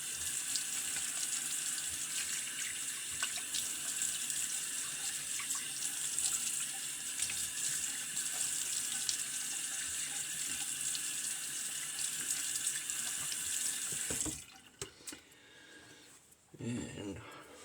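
Tap water running steadily into a bathroom sink for a shaving rinse with a vintage Gem Damaskeene open-comb razor, a close continuous hiss that cuts off abruptly near the end, followed by faint clinks.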